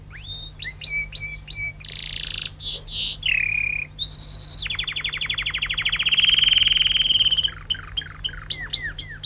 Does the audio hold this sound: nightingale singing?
yes